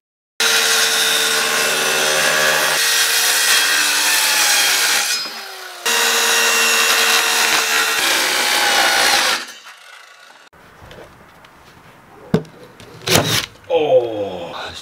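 Drilling into wood with a cheap drill bit while building a skate kicker ramp: a loud, steady whirring bore runs about five seconds, pauses briefly, then a second long run, followed by quieter handling knocks and voices talking.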